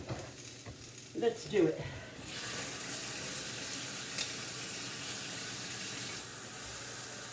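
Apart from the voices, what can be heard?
water added to a sizzling pan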